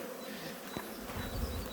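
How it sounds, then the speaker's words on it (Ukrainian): Honeybees fly around their hive early in the beekeeping season, making a steady, dense buzz of many insects close by with no one talking. "Бджолки облітуються."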